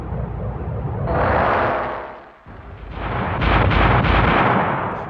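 Goalkeeper CIWS naval gun firing in Royal Netherlands Navy and Royal Navy tests, a loud roaring burst that swells and fades, then a second sustained rattling burst of rapid fire, heard close with no talk.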